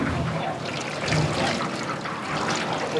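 Water poured over a body to rinse away soap during a ritual washing, a steady splashing trickle lasting throughout at moderate level.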